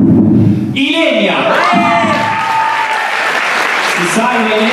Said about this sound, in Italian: anche per lei un applauso